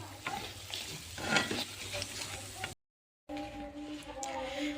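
Wheat-flour biscuits fry in hot oil with a crackling sizzle, cut by a brief total silence; afterwards the frying continues more faintly under a steady tonal hum.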